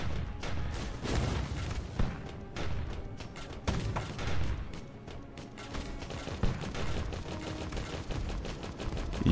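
Rapid cannon fire from the Steampunk Tower 2 video game, a dense run of sharp booming shots in irregular bursts, fairly quiet overall and with no talk.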